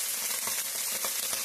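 Onion stalks fry in a pan with a dense, steady sizzle and light stirring, close and continuous, with no voices.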